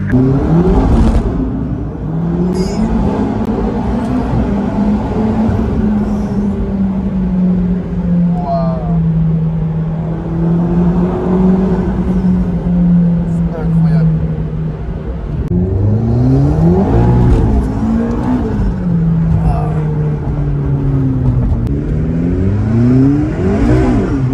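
A limited-edition McLaren sports car, one of only eight built, revs hard with wheelspin, its engine note climbing, dipping and surging again in loud repeated bursts, with a few voices talking faintly underneath.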